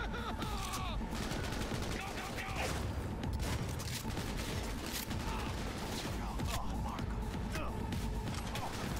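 Gunfire in the video game Cyberpunk 2077, rapid bursts of shots cracking over a dense, busy game soundscape, heard alone without talk.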